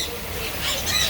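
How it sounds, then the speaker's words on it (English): Birds squawk and chatter amid steady background noise at an aviary bird sanctuary in Mexico, with the calls continuing faintly to moderately throughout. "We got all types of birds."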